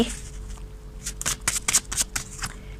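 Tarot cards being shuffled, a run of quick papery riffles and slaps in short bursts, close and fairly clear over a faint steady hum.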